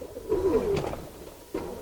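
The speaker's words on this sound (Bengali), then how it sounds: "এটা একটা কোবরা জেনারেশনের কবুতর।" Close, low cooing from a cobra-bred racing pigeon: one warbling coo-roll, then a short pause and the start of another, over a soft room hum.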